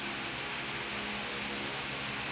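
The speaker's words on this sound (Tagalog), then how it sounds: "Paulan kasi dito sa Pinas guys." Steady rain falls during the rainy season in the Philippines, a dense, even hiss that continues without pause and with no voices.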